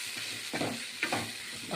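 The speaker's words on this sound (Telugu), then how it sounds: "మునగాకంట ఆయిల్లో మగ్గించుకుందాం" Moringa leaves sauté in oil in a pan, a soft continuous sizzle broken by a few scraping stirs, heard up close with no talking.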